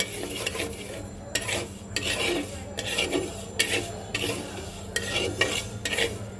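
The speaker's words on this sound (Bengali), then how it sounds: "মুগ ডালটা কাঁচা আছে আমি এটা একটু হালকা ভেজে নেব কড়াইয়ের মধ্যে দিয়ে দিলাম" Raw moong dal being dry-roasted in a wok, with repeated rhythmic scraping and stirring strokes of a spatula against the metal pan, close and fairly loud, with no speech.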